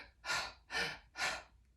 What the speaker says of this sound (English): Breathe in, belly out. Exhale, belly in.